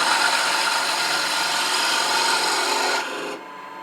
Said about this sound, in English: we're going to use a spindle gouge to round over these beads and clean up that parting area